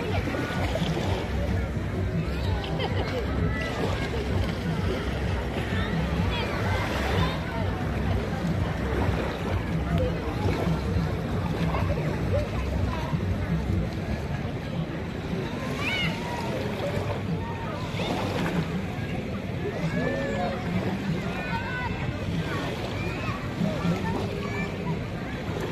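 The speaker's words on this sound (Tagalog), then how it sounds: "Lakas ng alon." Strong ocean waves at Barretto Beach in Zambales, a dense, steady roar of surf and splashing throughout, with people talking now and then.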